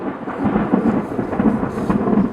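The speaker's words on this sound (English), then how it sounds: "The sound we hear is thunder." Heavy rolling thunder rumbles loud and continuous for a couple of seconds, with rain hissing steadily underneath and no voices.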